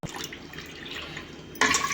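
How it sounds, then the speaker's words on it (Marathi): Water pours steadily into a pot of lentils nearby, growing louder and brighter toward the end as the stream strengthens. "एका वाटी डाळीला तीन ग्लास पाणी टाकायचं आहे आपल्याला"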